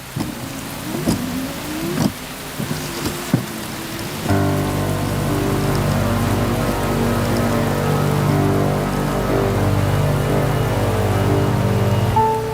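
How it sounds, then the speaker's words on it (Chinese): Heavy rain drums steadily on a surface nearby, a dense continuous patter that swells after a few scattered knocks and thuds at the start. "下雨了。 没事没事，雨好大"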